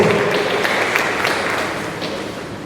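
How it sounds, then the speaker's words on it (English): A crowd at a Children's Day event claps as a speaker comes forward, giving a soft, diffuse wash of applause that slowly tapers off. "A round of applause, please."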